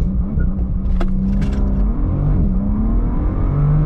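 A Bentley Continental GT Convertible with W12 engine accelerates hard from 0 to 100, a loud, deep, steady engine roar with rising pitch and a gear change, heard close and continuous.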